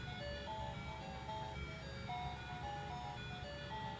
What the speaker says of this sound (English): You could hear in the background it plays the theme for the Nintendo game.